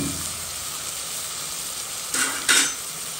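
Tomatoes cooking down for a sauce in a pan for carry bichique: a steady, fine sizzle and crackle throughout, with two brief louder stirring scrapes near the end and no talking.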